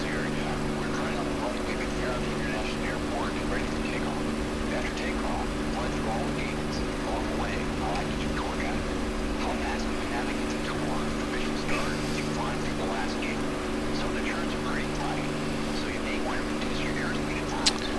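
A propeller warbird in DCS World over the Nevada Test and Training Range, its engine a steady, droning hum with strong tonal harmonics held throughout, while a person talks quietly over it.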